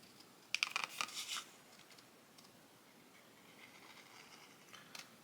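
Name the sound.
scissors trimming a cut-out part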